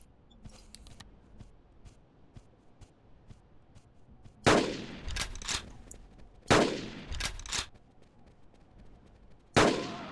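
Gunshots in the Carnivores Triplex hunting game: three loud, sharp cracks spaced a couple of seconds apart, each with a short echoing tail, standing out against faint ambient ticking and clicks.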